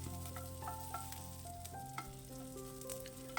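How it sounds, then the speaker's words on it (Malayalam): Halved shallots sauté in a pan for egg curry, giving a steady, close sizzle with occasional stirring scrapes, while tonal background music plays throughout and no one speaks. "അതുകൂടി ചേർത്തിട്ട് ഇനി ഒന്ന് വഴറ്റിയെടുക്കണം"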